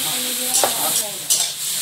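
A spoon stirs spinach curry with turmeric and salt in a hot pan, two distinct scraping strokes over a steady close sizzle.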